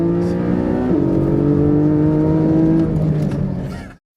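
Porsche 718 Cayman sports car engine holds a loud, steady rev with a rising pitch shift partway through, close up and alone, then cuts off abruptly.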